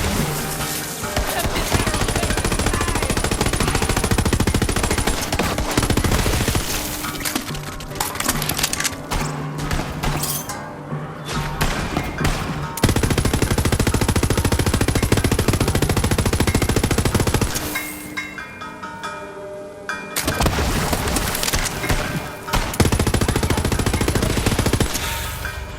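Gunfire in Borderlands 3 comes as rapid automatic bursts and crashing impacts, loud and dense for long stretches, broken by short quieter gaps between volleys.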